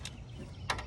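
A wrench clicks as caliper bracket bolts are tightened during a wheel bearing job on a Ford F-150, giving two short, faint clicks spaced well apart over a quiet background.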